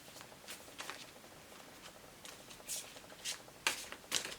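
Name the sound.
shuffling tarot cards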